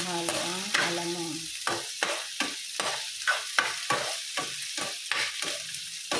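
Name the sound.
sautéing fresh shrimp paste (alamang) for cabbage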